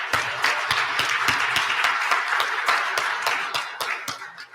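Audience applause at a conference closing ceremony, steady sustained clapping from a crowd filling the room, fading slightly toward the end.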